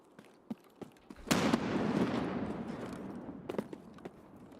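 A grenade goes off in a first-person shooter video game, a sudden loud burst followed by a rumbling roar that decays over a few seconds, with a few sharp clicks before and after.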